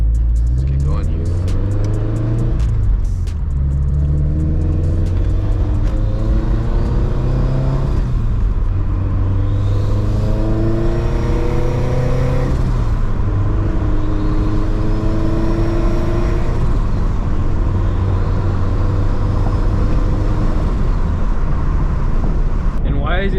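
Turbocharged Subaru BRZ engine heard from inside while driving, a loud steady drone rising and falling with repeated revving pulls as gears change, under someone talking over it.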